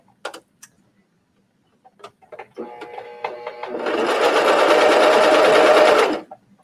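A sewing machine stitches binding onto a bathing suit coverup: a few light clicks and fabric handling, then a loud, fast, continuous run of stitching for about two and a half seconds before it stops abruptly.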